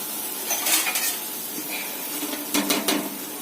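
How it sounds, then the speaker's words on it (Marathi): Metal pot lid set onto a cooking pot of okra gravy in a home kitchen, giving a few short clanks and rattles of cookware, then a quick cluster of sharper metallic knocks near the end, close and moderately loud. "थोडं आपण झाकण ठेवूया त्याच्यावर."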